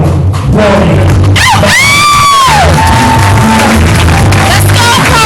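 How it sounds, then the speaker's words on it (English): A loud crowd at a poetry performance cheers and whoops, with shouts and a sustained roar filling the room; no clear clapping stands out. "So please give him a big round of applause."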